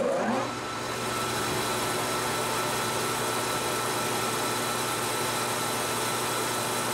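A metal lathe turning at about 680 RPM takes a light facing cut on a large predatory fishing lure, a steady, loud machine drone that holds evenly throughout with no talking.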